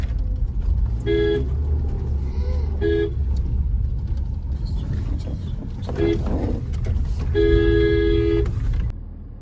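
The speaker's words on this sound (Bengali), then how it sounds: "একটা গাড়ি আসছে।" A car draws near over a low engine rumble, with several short horn toots and people talking in the background.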